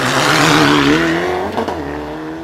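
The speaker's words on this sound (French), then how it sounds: "La voiture 52 de Gérard Montmirel au départ." A hill climb race car at the 2003 Arques-la-Bataille event accelerates hard away from the start, its loud engine note climbing steadily through the gears for over two seconds, with no talk over it.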